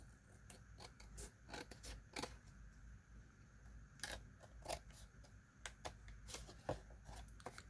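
Scissors snip through the paper layer of a Little Golden Book cover, leaving the cardboard uncut. The sharp crisp snips come close up in irregular bursts, with short pauses between groups.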